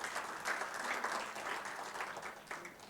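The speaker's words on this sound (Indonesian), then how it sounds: "Mari tepuk tangan untuk kemuliaan Tuhan" Brief, steady applause from a church congregation clapping for the glory of God, a close wash of many hands with no voices.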